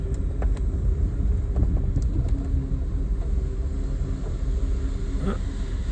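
A 1959 Edsel Ranger car on a test drive, its steady engine rumble and road noise continuous and fairly loud throughout, with a few faint clicks and rattles over the drone.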